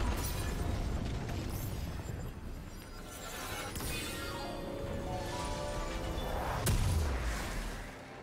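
A red-team turret is destroyed in a League of Legends match with a dense rumbling explosion over continuous game sound, building to a louder burst near the end without any talk.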